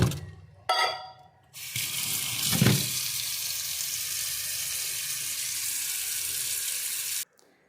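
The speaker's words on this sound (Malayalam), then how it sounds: "നമുക്ക് ഇനി ഇത് വെള്ളത്തിൽ കുതിരാൻ വെക്കാം" Tap water gushes into a vessel of rice set to soak, with a brief splash at first, then a steady loud pour that stops abruptly near the end.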